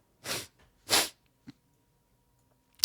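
Two sharp, close nasal sniffs about half a second apart, followed by a faint click and then quiet.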